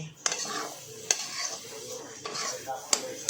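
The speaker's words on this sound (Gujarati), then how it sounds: "કપેલીમાં આ રીતે ધીમા તાપ પર તમારે હલાવતા રહેવાનું છે" A sweet saffron, pistachio and coconut mixture is stirred in a pan over low heat, producing soft scraping strokes with periodic sharp clicks of the spoon against the pan over a quiet, faint sizzle.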